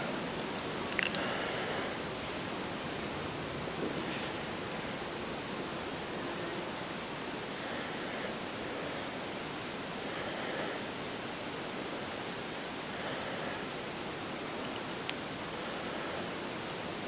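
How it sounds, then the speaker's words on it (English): Wind blowing steadily high in the mountains, a soft continuous broadband hiss with no gusts standing out, faint and even throughout with a few tiny clicks. "You can hear the wind blowing."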